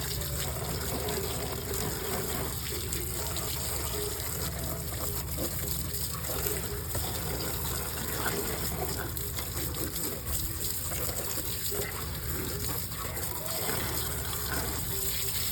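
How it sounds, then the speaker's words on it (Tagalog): A steady rushing spray of water rinses soap off a Honda Click V3 scooter engine, a continuous gushing hiss held close with no pauses. "pwede na natin siyang banlawan."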